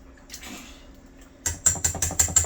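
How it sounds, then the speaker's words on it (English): A wire whisk beats egg yolk into chunks of butter in a bowl for Egyptian shoreek dough, giving about six quick, sharp scraping clicks in a steady rhythm after a quiet start, close and alone. "So I'm whisking."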